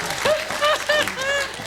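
A studio audience at a TV panel game show claps and laughs for under two seconds, with voices rising over the patter.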